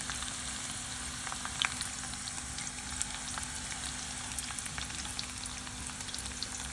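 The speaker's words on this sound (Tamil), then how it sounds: "இப்போ நல்லா இந்த வெங்காயம் கொஞ்சம் அப்படியே வதங்கணும்." Small shallots and crushed cumin sautéing in a pan for a Tamil anchovy fish curry, giving a steady, soft sizzle and frying hiss throughout with faint pops, no voices.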